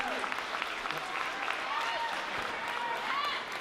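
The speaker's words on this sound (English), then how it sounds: "Let's go ahead and give them a round of applause." Audience applause for award winners at the Mrs Virginia 2020 pageant, a dense, steady wash of clapping filling the hall throughout, with some crowd noise mixed in.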